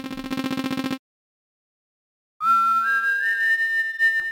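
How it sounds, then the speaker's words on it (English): Proto Man's whistle tune from the video game Mega Man 8 plays as clear, pure synthesized tones, a short pulsing phrase, then a pause of silence before a rising, held melodic line with layered electronic notes. "Proto Man, your whistle sounds so tired, my dude."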